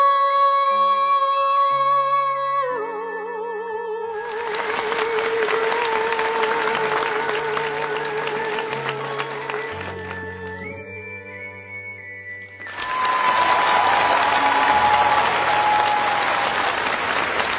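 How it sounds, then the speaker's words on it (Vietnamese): A theatre audience at a Vietnamese TV singing competition rises to its feet and applauds loudly, a dense roar of clapping that swells over the closing music, pauses briefly, then bursts out again even louder. "tôi thấy quý vị khán giả cũng đã đứng dậy để dành những tràng pháo tay để cổ vũ bác ạ"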